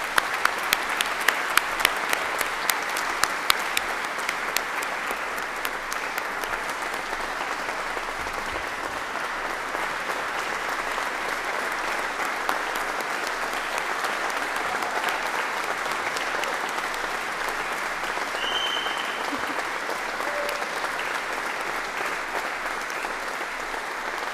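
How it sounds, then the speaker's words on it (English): Sustained applause from a large audience at a military commissioning ceremony for an Army battalion's class of 2024, with crisp individual claps near the start, then a dense, even wash of clapping that carries on without talk. "let's give a big round of applause for the Steel Battalion Commissioning Class of 2024"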